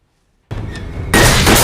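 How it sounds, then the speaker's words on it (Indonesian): Gunfire erupts in a film chase scene as a family hunts a fleeing woman, with shots missing their target: silence breaks into a loud sustained barrage of noisy blasts that grows even louder and harsher midway, with no talk. "berkat tembakan Emily yang terus meleset jauh dari sasaran"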